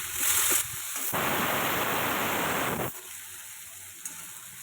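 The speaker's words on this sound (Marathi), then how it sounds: "दोन वांगे आणि एक बटाट्याचा फोडी थोडी कोथिंबीर घालून तेलावर चांगले हे परतून घेऊया" Eggplant and potato pieces fry in hot oil with a little coriander, giving a steady, close sizzle that swells loudly for a couple of seconds before easing back to a softer hiss.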